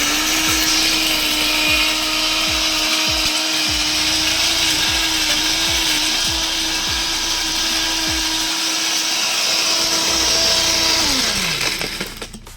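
A blender whirs at a steady high pitch while glass fragments rattle and crack inside, then the motor winds down at the end.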